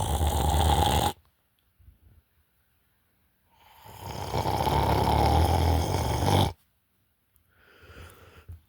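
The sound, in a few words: dog snoring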